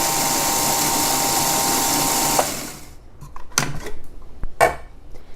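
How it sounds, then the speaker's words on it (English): A blender pulses coconut and oats for a pie crust, whirring loudly and steadily for about two seconds before stopping, then giving a few short sharp bursts. "And I start by blending this, just pulsing it until it gets to just a coarse consistency."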